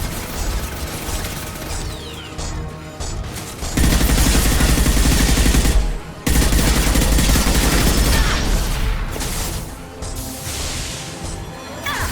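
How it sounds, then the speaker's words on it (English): Heavy high-impact gunshots from the Mass Effect 2 shooter game ring out loudly in sharp, dense bursts, with sustained blasts in the middle and mechanical clatter between them. "Firing a high-impact shot."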